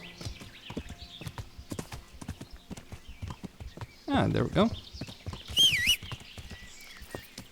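Horse hooves clip-clop steadily at a walking pace in the medieval open-world game Kingdom Come: Deliverance, with a louder burst of movement midway and a brief neigh-like sound, while someone talks over them.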